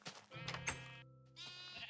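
Sheep in the Minecraft video game bleat in a few short, wavering calls, close and clear, one long bleat followed by a brief pause and another.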